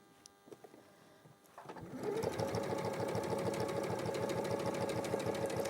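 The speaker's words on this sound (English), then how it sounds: "So now you're sewing a 1/4 inch seam." A sewing machine stitches a quarter inch seam joining basted quilt units, starting after a few soft handling sounds and settling into a steady, rapid mechanical whir with a fast rhythmic needle beat, close and loud.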